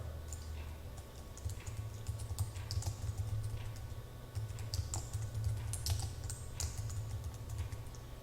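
Quick, close key clicks come in uneven bursts as text is typed on a computer keyboard into a table row, over a low steady hum.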